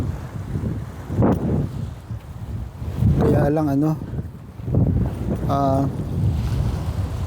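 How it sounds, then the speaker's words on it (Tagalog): Strong wind buffets the microphone at a lakeside campground during a fishing outing, rumbling in gusts throughout while someone speaks briefly and other voices come through over the roar. "malakas ang hangin"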